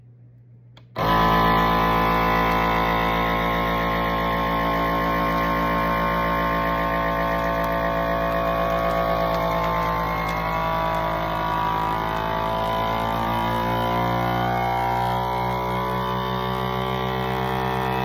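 Vacuum sealer machine switching on abruptly and running with a loud steady motorized hum and buzz, sealing meat, continuous and close without pause.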